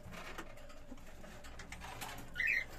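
A cockatiel chick at a breeder's in Istanbul gives a short burst of soft, high calling near the end, after a stretch of quiet room noise.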